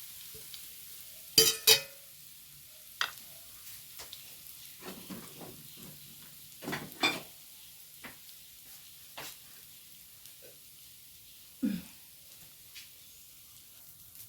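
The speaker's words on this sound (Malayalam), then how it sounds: "ഈ നെയ്യിലേക്ക് തന്നെയാണ് ഞാൻ നാളികേരം ഒരു മുറി പകുതി ഒരു തേങ്ങേൻ്റെ പകുതി എടുത്തിട്ടിരിക്കുന്നത് അതൊന്നും നമുക്ക് വറുത്ത് കൊടുക്കാം" Coconut pieces frying in ghee, a faint low hiss in a quiet kitchen punctuated by scattered sharp clinks and scrapes of a spoon against the pan, no voices.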